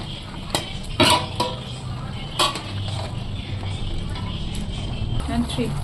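Fried soybean chunks and paneer being sautéed in a pot for vegetarian biryani, with a spoon scraping and clinking against the metal in a few sharp knocks over a steady sizzle.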